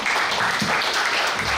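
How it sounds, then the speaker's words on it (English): Applause at a 70th birthday celebration: a brief, dense burst of clapping from an audience, loud and steady for under two seconds. "Big round of applause to Madan sir."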